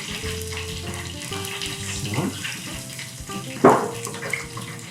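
Fingers rinsed under a running kitchen tap while making chicken nuggets, a steady close hiss of flowing water with a couple of brief splashy bursts and a short spoken word.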